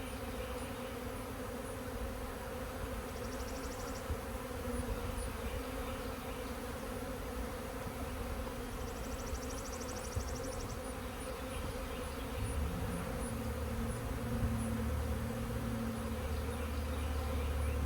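Honeybees buzz steadily throughout a beehive inspection of package and underdog hives with natural wired comb being built out, a continuous close insect drone with no talking.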